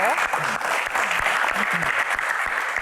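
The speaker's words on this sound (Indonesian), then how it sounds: "Tepuk tangan buat box kepo" Audience clapping during an Indonesian Q&A show segment, a steady, dense burst of applause throughout, with faint voices and whoops underneath.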